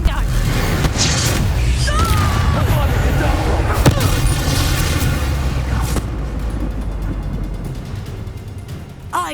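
A Confringo blasting curse explodes in the Hogwarts Legacy video game, a booming, dense blast layered with rumbling debris and battle effects that roll on for several seconds before thinning out, with voices heard over it.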